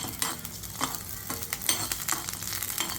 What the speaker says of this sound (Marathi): अगदी थोडंसं तेल घातलं आहे आणि मिरच्या हलक्याशा भाजून घेते